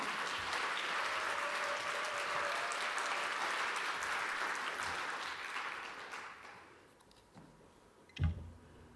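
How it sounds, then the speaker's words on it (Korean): Applause from a church congregation fills the space as a steady patter of many hands, then fades out toward the end, followed by a single soft knock. "큰 박수 부탁드리겠습니다."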